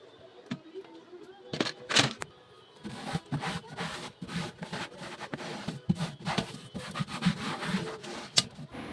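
Scrubbing and washing a dusty dish rack with soap, giving irregular rubbing and scraping strokes with bursts of water and clatter, close and moderately loud, with little pauses between strokes.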